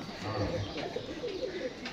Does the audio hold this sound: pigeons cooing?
yes